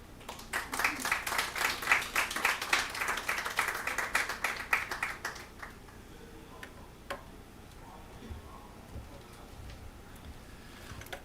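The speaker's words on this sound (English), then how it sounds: "Could we give another round of applause to all of the panelists and presenters today, please?" An audience applauds panelists and presenters at a steel-industry decarbonization conference session, a dense round of clapping for about five seconds that then thins to a few scattered claps and quiet.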